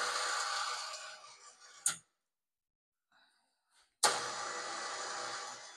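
The winch on a 2025 Polaris Ranger 1000 XP NorthStar, run by remote control, whirs steadily for about two seconds, stops, then starts whirring again after a brief quiet pause.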